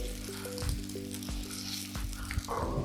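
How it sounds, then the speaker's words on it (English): Salami slices searing in a hot pan give a steady, close sizzle with a faint low hum underneath and a few soft knocks scattered through, no talking. "Very simple, nice little quick sear."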